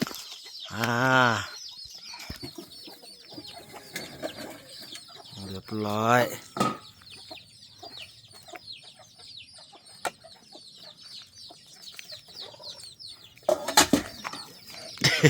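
Chickens cluck and squawk with bursts of wing flapping as they are chased around a rural forest settlement, a couple of loud harmonic calls standing out early on, with people talking over the commotion.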